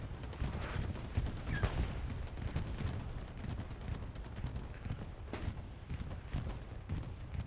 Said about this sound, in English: Bombing run coming in for Syndicate